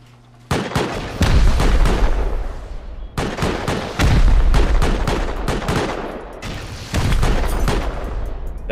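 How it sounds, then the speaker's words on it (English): In the Rust video game, explosives blow up turrets in a garden, giving loud, dense volleys of rapid blasts and booms in three long bursts, close and heavy with deep low rumble. "They're blowing the turrets in the garden right now"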